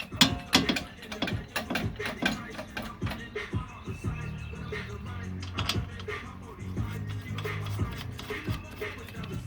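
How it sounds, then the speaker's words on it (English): A jack pumped to lift the control arm of a Jeep Commander during a lift spacer install, with rapid metallic ratcheting clicks and clanks close by, irregular and busy, with some faint voice in the background. "We do that by just jacking the control arm back up."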